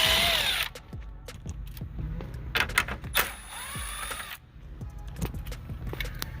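Power drill or impact driver whirring in short bursts, backing out 10 mm bolts holding the radio in a 1995 Dodge Ram dash, with clicks and rattles between the spins, close by.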